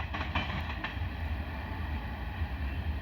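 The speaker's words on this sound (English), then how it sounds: "I'm glad to catch a train tonight anyway." A train passes at night, its steady low rumble and rolling wheel noise heard from a moderate distance, fairly faint, with a few brief clanks early on.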